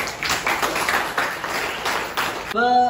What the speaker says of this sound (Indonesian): Silakan duduk, beri tepuk tangan untuk Alicia.